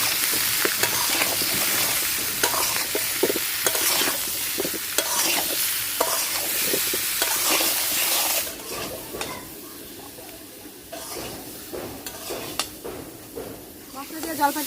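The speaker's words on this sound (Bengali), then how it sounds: "তেলের মধ্যে জলপাইগুলা ভাজা নিয়েছি" Olives for pickle sizzle and fry in hot oil with frequent stirring scrapes against the pan; the frying quiets partway through while stirring continues.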